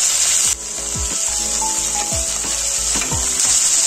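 Freshly washed spinach tossed into a hot pan while making hara bhara kabab, giving a bright continuous sizzle with repeated stirring scrapes and soft knocks against the pan, close and loud, without speech.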